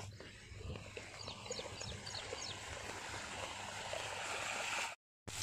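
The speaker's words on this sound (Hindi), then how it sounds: "देखो कैसे फाउंटेन चल रहा" Water from a village fountain in a farm field runs in a steady, continuous rush, with faint wildlife and background ambience underneath.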